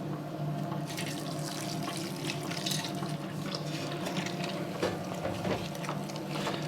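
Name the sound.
water being added to pizza dough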